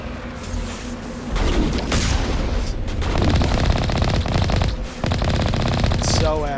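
Rapid automatic weapon fire in the video game Mass Effect, a loud sustained burst of rattling shots with brief pauses between volleys and a few heavier booms, with a voice speaking faintly underneath.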